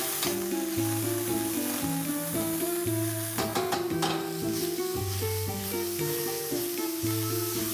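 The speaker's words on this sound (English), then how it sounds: "Once the oil heats up, I'll be adding in the chopped vegetables." Chopped vegetables sizzling in hot oil for an egg bhurji or masala, a continuous close crackle with repeated spatula stirs and scrapes against the pan, no voices.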